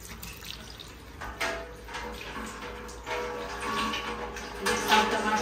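Tap water runs and splashes as tomatoes are rinsed in an outdoor village kitchen, a close, steady trickle with irregular bursts as the fruit is moved under the stream.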